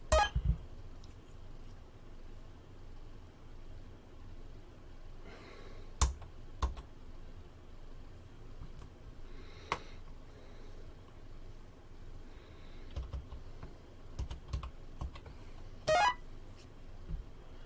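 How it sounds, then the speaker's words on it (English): Typing on the keyboard of a Tiger Learning Computer: clustered plastic key clicks and taps come in short bursts with pauses, close and fairly loud, alongside a few electronic beeps. "Horrible keyboard."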